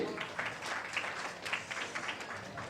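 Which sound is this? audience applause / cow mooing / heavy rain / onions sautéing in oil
audience applause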